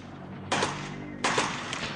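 Two sharp bursts of gunfire crack out a little under a second apart during a shootout between SLA members firing from a crawl space under a house and police returning fire, each burst loud and close over a low steady rumble.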